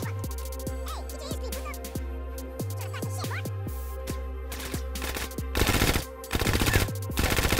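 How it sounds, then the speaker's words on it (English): Gunfire in Grand Theft Auto: San Andreas, with sharp single shots in a quick, uneven rhythm followed by denser bursts near the end, over steady game background sound. "Who's shooting at us?"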